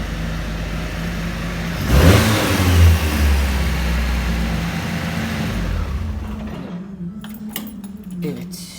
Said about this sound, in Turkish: Araç bu şekilde tek marşla çalışıyor. Benzinde bir de.